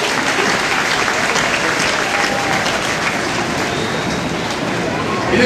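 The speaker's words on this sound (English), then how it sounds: "a big round of applause for Laura and all of our brave and talented audience extras" A large audience at an Indiana Jones stunt show claps in loud, sustained applause that holds steady throughout, with a swell at the very end.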